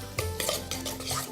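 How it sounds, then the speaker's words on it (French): A spoon stirs Japanese dumpling filling of soy sauce, sake, chives and sesame oil in a bowl, giving a short burst of soft clinks and wet scraping, close and fairly quiet. "On mélange délicatement."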